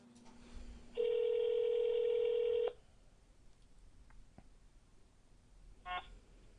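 A telephone call being placed: a low dial tone, then a long steady multi-tone dialing signal, followed by quieter line noise and a brief ringing burst near the end, with no talk.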